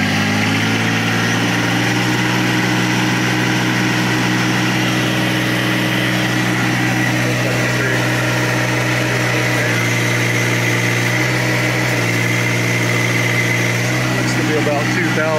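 A warmed-up John Deere 1025R compact tractor engine holds a steady, loud hum at raised revs, with a constant low drone and no obvious rise or fall in pitch, while a voice talks over it.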